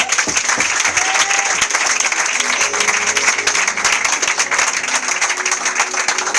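A church congregation applauds loudly and steadily at a prophet's consecration ceremony, dense continuous clapping with some crowd cheering mixed in and no pause throughout.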